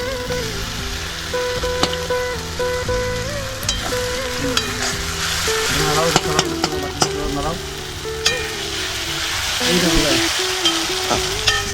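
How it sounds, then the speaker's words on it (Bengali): Onions frying in a pan before a ground spice paste goes in, giving a continuous loud sizzle with scraping stirs and clinks throughout and a brief surge of hissing as the paste is added near the end. "পেঁয়াজটাকে ভালো করে ভেজে তারপরে আমরা যে মানে মিক্সারে রাখা যে মশলাটা ছিল সেটাকে ঢেলে দেবো"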